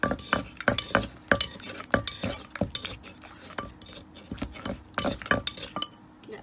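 A mortar pounds bamboo shoot salad in a quick series of sharp, close thuds and clacks that fall in an irregular rhythm, with faint scraping in between.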